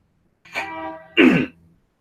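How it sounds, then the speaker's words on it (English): A single person clears their throat twice in close succession, a short rasp followed by a louder, harsher one, near and alone, during a tabletop role-playing game session. "Let me clear my throat again."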